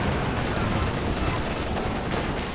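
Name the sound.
heavy mortar and pack howitzer fire, Company of Heroes 2 video game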